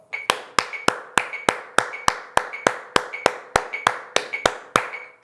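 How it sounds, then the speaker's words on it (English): Crisp hand claps land at a steady even pace, about three per second, each one sharp and close in a quiet room, played as offbeat eighth notes displaced by a sixteenth note against a metronome beat. "Then I have them clap the same exact eighth notes, but on the E and the so displaced over 1/16 note"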